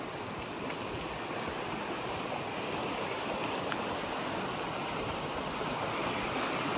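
A mountain stream near a waterfall rushes with a steady, full roar of flowing water after its flow has risen, constant and close with no voices.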